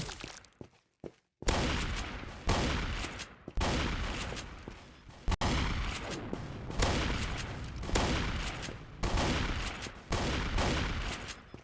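Rapid gunfire in the Roblox video game, long loud bursts of automatic shots that run nearly nonstop after a few brief opening pops, with short gaps between volleys and no talk.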